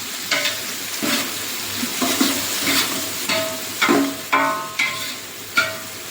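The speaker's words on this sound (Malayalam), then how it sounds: "അതിലേക്ക് ഏകദേശം ഒരു നാല് സവോള വലിയ നാല് സവോള അരിഞ്ഞത് ഇട്ട് കൊടുത്തിട്ടുണ്ട് ഇനി ഇത് ഇളക്കി വഴറ്റിയെടുക്കാം" Four large chopped onions sizzle in a hot pan while a spoon stirs them, giving repeated scraping strokes over a steady frying hiss, close and fairly loud with no talking.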